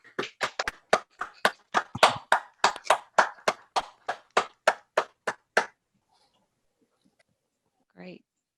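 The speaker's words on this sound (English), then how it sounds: "I'd like to invite people to unmute if you'd like to applaud for Paul" Scattered applause from a few people unmuted on an online video call, a run of uneven claps that stops abruptly, followed by silence and one short burst of speech.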